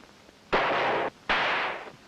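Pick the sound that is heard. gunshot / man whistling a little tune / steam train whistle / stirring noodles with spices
gunshot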